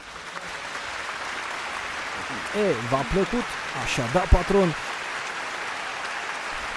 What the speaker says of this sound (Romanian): Aplauze, vă rugăm!